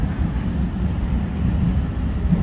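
An Oslo Metro train pulls out of Kjærland station, a steady low rumble of wheels and motors rolling on continuously and fairly loud, with no voices over it.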